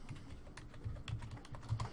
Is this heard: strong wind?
no